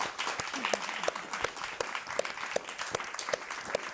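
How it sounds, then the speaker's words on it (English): Conference audience applauding three session speakers, a moderate, steady patter of many hands clapping with sharp individual claps standing out, slightly distant in a hall, with a faint voice underneath. "Could we just have a round of applause, please, for our three speakers?"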